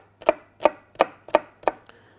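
Five sharp knife chops strike a cutting board at an even pace as red onion is cut small, each chop crisp and close with brief quiet between strokes.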